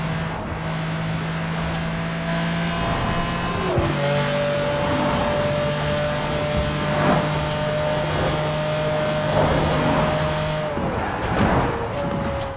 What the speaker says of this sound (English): here is what it sounds like in the current game